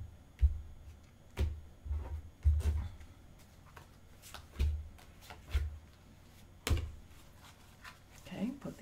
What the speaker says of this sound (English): let's go ahead and cut the cards